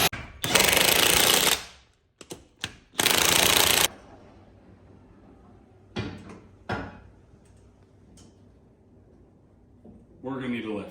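A pneumatic impact wrench rattles on a Jeep's lug nuts in two loud, close bursts, each lasting about a second, with short clicks and clunks between them, then quieter handling noises.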